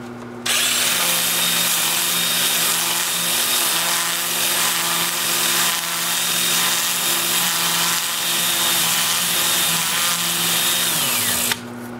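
A power tool with sandpaper grits a wooden vase at 180 grit, a steady loud whirring and scraping drone that runs unbroken for about eleven seconds before cutting off.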